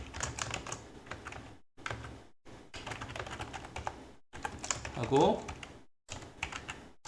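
Quick, steady clatter of keys on a computer keyboard while C++ code is typed, with several short pauses between bursts and a firmer Enter press among them; a voice speaks quietly underneath.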